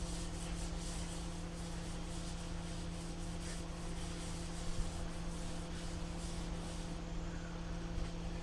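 A new fuel tank being rubbed and wiped clean, giving a steady, close, continuous scrubbing and rubbing noise throughout over a low constant hum.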